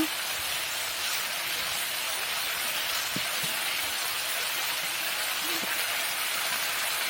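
Pre-fried shing fish laid into hot masala in a pan, a loud continuous close hiss and sizzle with a few faint clicks and no talking.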